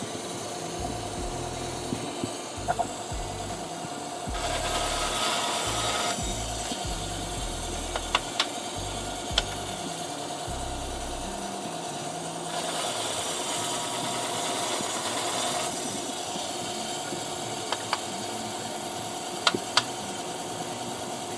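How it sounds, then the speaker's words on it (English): A bandsaw trims a piece of wood in two separate cutting passes, each a harsh, hissing rasp that rises over a steady low motor hum and fades back between cuts. "I can do a quick trim on the bandsaw and then still go back to the barrel trim."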